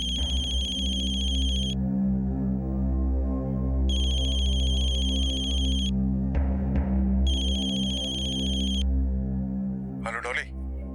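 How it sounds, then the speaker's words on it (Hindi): A phone rings with an incoming call: three loud, steady electronic ringtone bursts with gaps between them, a brief clatter, then a short beep as it is answered, over a low musical drone. "उन्हें इंतजार था तो बस कादर के फोन का।"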